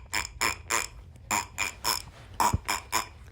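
A voice imitates an oboe with a string of short, nasal, reedy honks, like a duck quacking out "Mary Had a Little Lamb."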